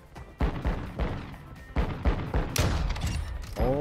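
Gunfire in Warzone 2 erupts as a string of loud, close sniper-rifle shots, several sharp bangs spaced irregularly with echoing tails and overlapping bursts, no talking over them.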